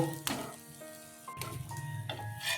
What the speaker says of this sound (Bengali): আমি এইভাবে পরোটাটা ভেজে নিলাম এর পরেরগুলো সব এইভাবে করে ভেজে নেব